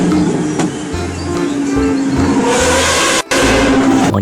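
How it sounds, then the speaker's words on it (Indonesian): A toy Lamborghini sports car from a set of cleaned toy vehicles plays a loud, close engine-revving sound. The rev rises and surges for a few seconds, cutting out for an instant near the end. "yang ini mobil Lamborghini"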